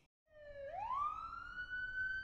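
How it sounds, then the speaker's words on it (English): In a children's nursery song, a black police car's siren slides down briefly and then rises into a long, loud, clear wail close up, with no voices over it. "Police car."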